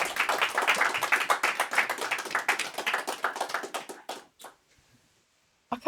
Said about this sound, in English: Another round of applause, I think, for that again.